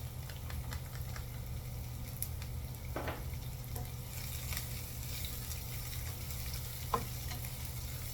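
Bacon and green onions fry in a pan with a steady, close sizzle and crackle, broken by occasional scrapes and clinks of stirring.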